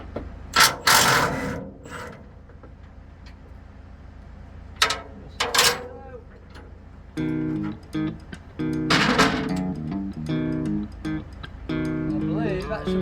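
A ratchet clicks in short close bursts while a bolt comes off a truck, with someone talking in between and a low engine-like hum underneath.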